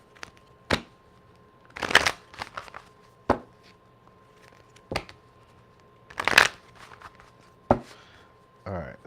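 Tarot cards are shuffled in two quick riffling bursts, with soft taps and knocks of the deck on a table in between, close and clear.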